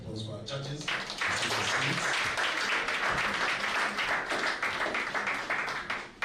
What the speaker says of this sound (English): another round of applause for our judges